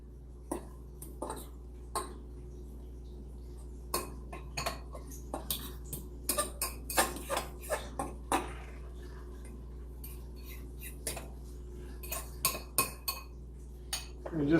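A utensil clinks and scrapes against a bowl while coconut flour is stirred into keto chaffle batter, quiet irregular taps and clatters with short pauses, close and alone in a still kitchen.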